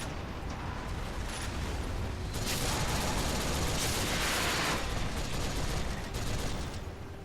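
Heavy machine gun turret in the video game Ninja Blade fires in a dense, sustained barrage, a loud continuous roar of rapid shots and blasts lasting several seconds without a break.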